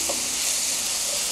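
Green onions stir-frying in oil in a pan for fried rice, a steady close sizzle and hiss with no talking.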